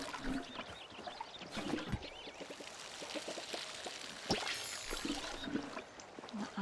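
Water pouring over trees while watering them in the cozy farming video game Palia, a steady splashing trickle lasting throughout, with brief sharper splashes and faint background game ambience.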